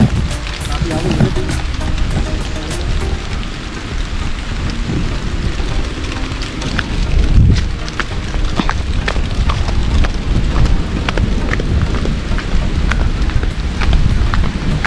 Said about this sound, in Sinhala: පොඩි වැස්සක් එනවා ඔයාලට ඇහෙනවද පල්ලේ සද්දේ?